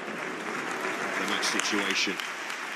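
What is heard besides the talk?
stadium crowd applauding at a women's football match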